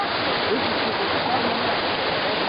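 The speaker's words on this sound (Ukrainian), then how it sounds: "Ось тут це потік." Constant rushing of a mountain stream flowing over rocks near Zhenets waterfall in Ukraine, a dense, even roar heard up close.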